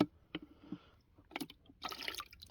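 Car part rinsed with water poured from rain barrels during deep car cleaning, giving brief splashes and pours that build into a steadier run of water near the end.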